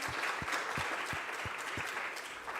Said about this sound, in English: Please, let's give them a round of applause as they're coming forward.